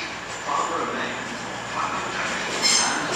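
A CrossCountry Class 220 Voyager diesel train, unit 220011, pulls into Basingstoke station amid a steady rumbling wash of noise with faint higher whines, while station announcements and voices talk over it.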